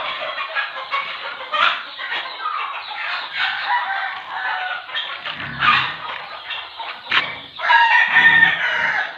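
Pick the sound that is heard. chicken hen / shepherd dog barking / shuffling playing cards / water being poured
chicken hen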